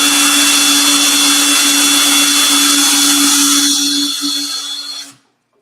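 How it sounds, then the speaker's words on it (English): A power burnishing tool polishes the edge of a piece of leather, making a loud, steady high-pitched motor whine with a constant hum that eases off near the end and then stops abruptly. "Let's just burnish up the edge."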